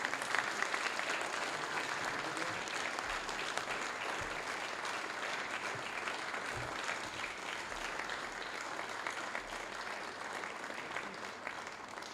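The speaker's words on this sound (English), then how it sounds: "round of applause, ladies and gentlemen." An audience at a palaeontology award ceremony applauds steadily for about twelve seconds, a dense, even clapping with no voices over it.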